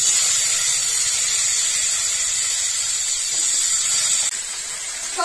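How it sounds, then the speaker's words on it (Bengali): Chopped fresh vegetables and bay leaves tipped all at once into hot oil in a home kitchen, giving a loud, steady broadband hiss that sizzles continuously without pause and eases slightly near the end. "তার সাথে তেজপাতা কেটে রাখা টাটকা সবজিগুলো আমি তেলেতে একবারে দিয়ে দিচ্ছি।"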